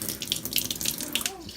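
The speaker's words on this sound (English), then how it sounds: "so we're just gonna let the water run" Tap water runs steadily through a newly installed eSpring carbon block filter, a close, continuous splashing rush with bubbly flickers.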